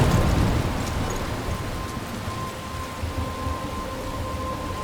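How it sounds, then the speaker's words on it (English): Thunderstorm with steady heavy rain in the Life is Strange video game, a dense continuous downpour with a low rumble that is loudest at the start and then holds steady, with no voices. "I'm trapped in a storm?"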